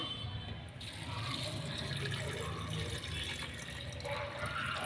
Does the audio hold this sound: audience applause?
no